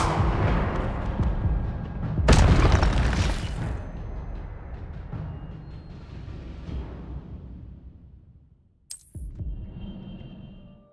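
The Incendio fire spell blasts in the Hogwarts Legacy video game: a loud whooshing burst that booms up, then decays into a crackling roar, followed by a sharp high chime and a second, quieter blast.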